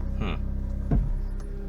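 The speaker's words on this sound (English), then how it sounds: "the power steering is making a lot of noise" A 2001 Honda Civic's power steering whines steadily over a low idling engine rumble, with a brief thump partway through, heard close up.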